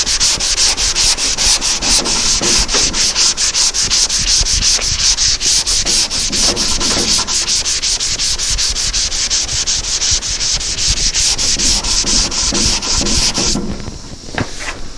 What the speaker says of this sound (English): So as I start sanding,